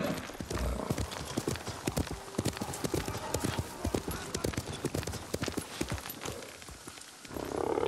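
Rapid hoofbeats clatter in a steady galloping rhythm, close and crisp, with a brief horse whinny mixed in, from the video game Ghost of Tsushima.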